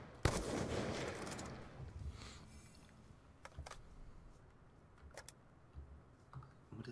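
Computer keyboard keys clacking in scattered bursts during a Black Ops II match, with quiet clicks spread across the stretch and muffled gunfire-like game sounds in the background.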